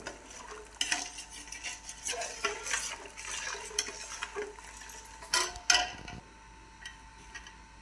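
A spoon scrapes and stirs a thick gram flour laddu mixture in a metal pot in steady, irregular strokes, with clinks against the sides, close and fairly quiet before it stops near the end.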